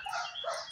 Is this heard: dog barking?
yes